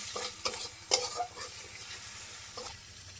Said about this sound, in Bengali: এবার এটাকে সুন্দর করে মশলাগুলোকে অ্যাডজাস্ট করার জন্য নাড়াচাড়া দিতেছি